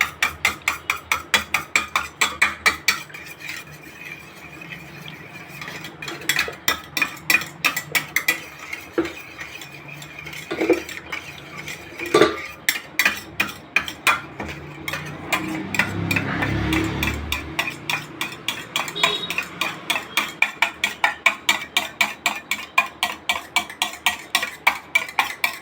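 A potato ball mixture with salt added is whipped steadily in a bowl, producing a long run of fast, regular clicking and scraping strokes that pause briefly midway before resuming, close and fairly loud with no talking.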